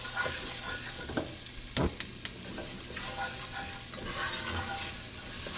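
Half a large chopped onion sautés in a pot for a copycat Olive Garden soup, hissing in a continuous even sizzle, with three quick sharp clacks of a utensil partway through.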